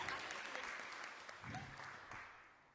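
Audience applause at a Shri Ram katha religious gathering at Shri Nanda Devi Mandir, a steady wash of many hands clapping that stays quiet and distant, swelling slightly midway before tapering off.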